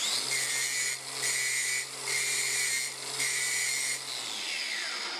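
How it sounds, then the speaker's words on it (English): A disc cutter, held upside down, grinds burrs off steel studs while fitting timber joists in an industrial unit: a loud, steady high-pitched grinding whine broken into about five close bursts with brief dips between them. "take the burrs off these studs so that we can knock them in the hole"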